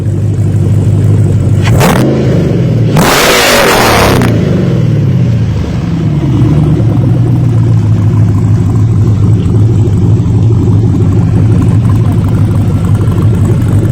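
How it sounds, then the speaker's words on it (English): A 1985 Jeep CJ7 with an LS engine swap idles loudly up close, then blips its throttle twice in quick succession for two short revs and settles back into a steady, heavy burbling idle for the rest of the time. "Rev it up a little."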